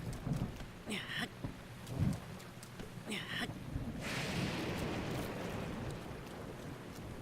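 Steady rain falls in Zelda: Breath of the Wild, a dense wash of hiss that thickens and swells over the final seconds, with brief rumbling bursts earlier that may be distant thunder.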